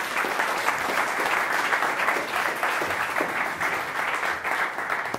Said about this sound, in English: So give a round of applause for Team Spidey.